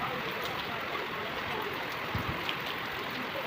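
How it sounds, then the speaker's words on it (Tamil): Heavy rain pours down steadily on a cold evening, a dense, even hiss of falling water that holds unbroken throughout, with a few faint low thumps near the middle. "ரொம்ப மழை பெய்யுது"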